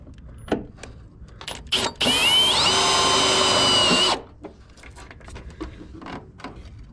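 A power drill drives a screw into a battery box mount in an LS-swapped 1988 Firebird. Its close, loud whine runs for about two seconds and rises in pitch, then stops, with faint clicks and handling noises before and after.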